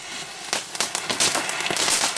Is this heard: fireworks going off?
yes